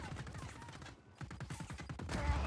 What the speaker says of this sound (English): Man, they're shooting from everywhere.